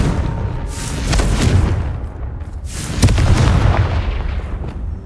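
Two loud, rolling fiery explosions from the Confringo spell in Hogwarts Legacy, a few seconds apart. Each bursts in with a sharp crack and then rumbles on heavily.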